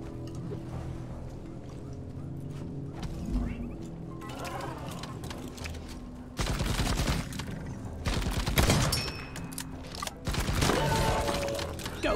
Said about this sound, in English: Good old close quarter shotgun.